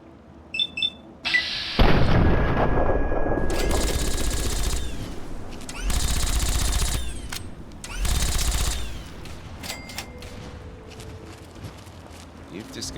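Gunfire in Fallout 3 comes as bursts of rapid shots and heavy blasts spaced across the scene, loud and close, with clicks and music-like tones and a person speaking between them.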